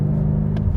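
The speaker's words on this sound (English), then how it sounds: "And then you have that sound of the V8" A 2018 BMW M5's V8 engine in Sport Plus gives off a steady, deep rumble with a loud, close low-end drone and no speech.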